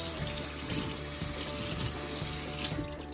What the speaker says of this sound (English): Give it a quick little rinse.